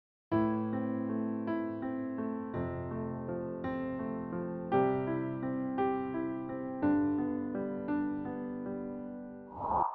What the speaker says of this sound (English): The second pattern is called the waterfall